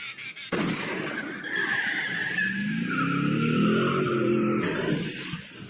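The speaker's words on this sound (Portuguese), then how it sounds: "Pelo barulho, deve ter batido o carro, né?" A car crash in the Indian film Andhadhun: a sudden loud impact followed by several seconds of skidding, screeching tires and a roaring engine.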